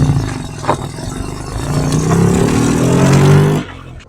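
A 1960 Jaguar XK150 engine pulls on a country lane, its loud inline rumble rising in pitch as it accelerates through a gear, then dropping sharply as the throttle lifts.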